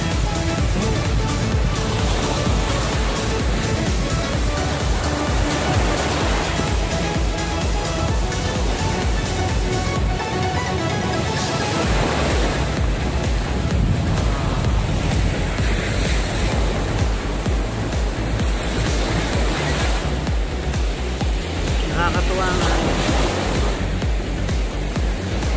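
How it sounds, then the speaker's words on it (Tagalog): Ocean waves break and wash ashore at Desaru beach in a loud, continuous roar of surf with slow swells, mixed with wind buffeting the microphone. "Buhay ang dagat, guys, oh."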